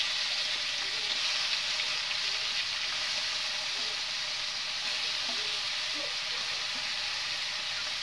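Small chuna fish frying in hot oil, a constant dense hiss and sizzle close up with faint bubbling pops, steady throughout and without talking.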